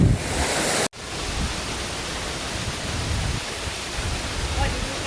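Mamala Falls in Sariaya, Quezon, with very cold, clear water, roars as a steady, dense rush of falling water. The sound cuts out briefly near the start, then returns and holds constant and close.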